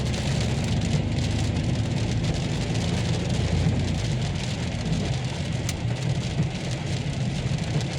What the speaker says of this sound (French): Même sous la pluie, c'est agréable ici.